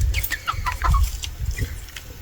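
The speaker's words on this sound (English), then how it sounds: "Chicken gone in again." A chicken clucks close by in a series of short, loud, irregular clucks over a rumbling low background, with no voices in the clip.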